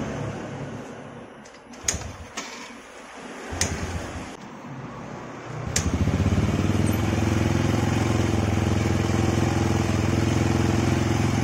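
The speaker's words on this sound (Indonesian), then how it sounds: "Kita nyalain motornya." After a few clicks and knocks, a Yamaha Supramu motorcycle engine, long unused and just fitted with a new spark plug, starts and settles into a loud, steady idle that runs to the end.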